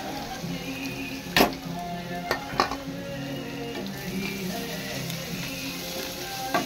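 Raw jackfruit pieces with turmeric and salt sizzle steadily in a pan, a constant close frying hiss broken by a few sharp clinks of stirring, with no talk.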